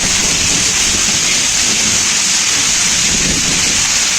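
A heavy hail and rain storm, a loud dense steady hiss and patter of hailstones and rain pounding down without a break.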